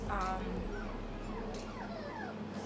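A litter of seven puppies whimpering and crying in the background, thin high whines and yips sliding up and down, faint under a steady low hum.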